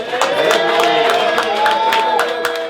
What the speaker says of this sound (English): Clap, y'all. Keep clapping.